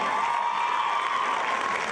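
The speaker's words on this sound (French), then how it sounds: "je pense que vous méritez des grands applaudissements" A show audience applauds two helpers called onto the stage, giving a steady wash of clapping with a faint cheering tone over it for about two seconds.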